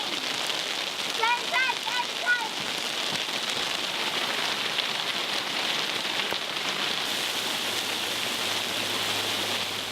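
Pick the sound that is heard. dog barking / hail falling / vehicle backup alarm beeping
hail falling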